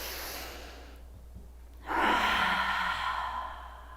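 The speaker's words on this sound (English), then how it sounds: "give me the deepest breath you can take" During yoga practice, a deep breath is drawn in softly, then exhaled audibly in one long, close, breathy rush lasting about two seconds.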